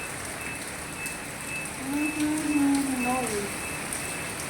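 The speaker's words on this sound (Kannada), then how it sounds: "ಇಲ್ಲಿ ನೋಡಿದ್ರೆ ಮಳೆ ಸಿಕ್ಕಾಬಟ್ಟೆ ಬರ್ತಾಯಿದೆ" Heavy rain pours steadily outside a Grand Hyatt hotel in Goa, a dense, even hiss of drops on surfaces, with a person speaking briefly over it.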